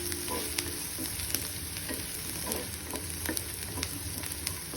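Onions frying over high gas heat in a skillet give a steady close sizzle and crackle, with scattered scrapes and clicks of stirring; no one speaks.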